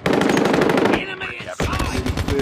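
Rapid automatic gunfire from Call of Duty Mobile rattles loudly and close, a dense stream of shots that breaks off briefly and then resumes.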